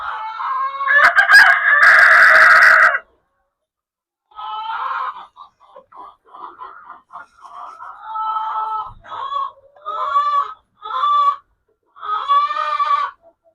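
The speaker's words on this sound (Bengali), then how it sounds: "আট মাসের নতুন মোরগ" An eight-month-old young rooster of the hill (pahari) desi chicken breed gives a loud, close crow, then after a pause a run of short clucks and calls in uneven bursts.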